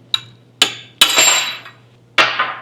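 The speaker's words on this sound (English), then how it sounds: "So I'm gently driving the long bolt out." Hammer blows drive a long bolt out of a Scout pedal bracket: four sharp metallic strikes, close and loud, with ringing clinks that decay between hits and no voices.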